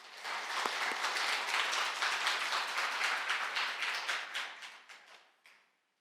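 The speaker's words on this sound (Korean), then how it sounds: "박수로 환영해 주시기 바랍니다" An indoor audience at a Catholic faith lecture gives warm, steady applause to welcome a nun to the stage, a dense even patter that tapers off and fades near the end.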